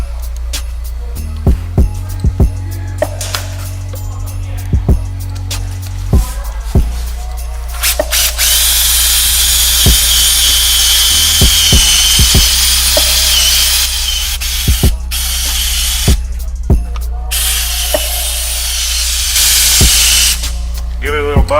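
Power polisher buffing a car wheel with Zephyr Pro 40 on an extension, a loud whirring motor that runs in steady stretches with brief pauses and bumps, close up.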